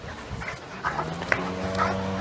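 Eight-week-old St. Bernard puppy gives a few short whimpers and yelps over a low hum, close by, with people's voices mixed in.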